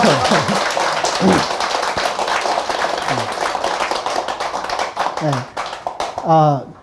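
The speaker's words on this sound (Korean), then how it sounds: "박수 치려면 좀 제대로 좀 한번 치보세요" An audience claps at a Buddhist monk's dharma talk, a sustained wash of applause from many hands, with a speaking voice heard at the start and again near the end.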